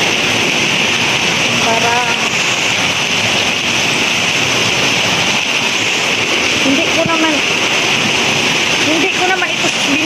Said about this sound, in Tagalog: wala nang katapusan ng ulan